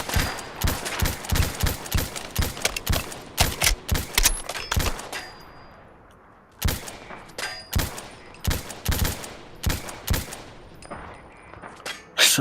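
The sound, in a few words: gunfire in a video game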